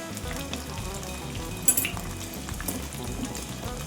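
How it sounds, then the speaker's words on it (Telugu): Boiled potato pieces fry in oil, a dense continuous sizzle and crackle close up, with a brief clink of a utensil partway through and no talk. "ఈ నూనెలో ఈ బంగాళదుంప బాగా వేగాలండి"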